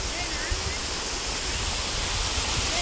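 A mountain stream rushes steadily along a hill trail, a dense, even hiss of flowing water that fills the whole moment at close range.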